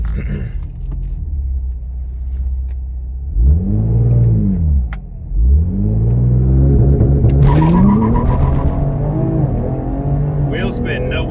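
A Ford Explorer ST with a billet vertical arm install launches hard off a trans brake, its engine roaring loud and near as revs climb and tires spin briefly, with a steady low rumble underneath and rising pitch through the pull.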